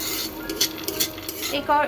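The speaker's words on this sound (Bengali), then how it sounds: "আমি এবার তুলে নেবো বাদামটা" Fried peanuts scooped out of a ghee-filled pan, with several quick metallic scrapes and clinks of a spoon against the pan, close and fairly loud, closing on a brief scraping burst.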